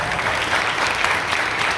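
Loud, dense applause from an audience honoring a middle school principal at a dedication and unveiling ceremony, sustained clapping throughout the short stretch with no voices.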